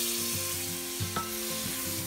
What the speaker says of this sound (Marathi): फ्राय झालेला आहे आपला मसाला चांगला।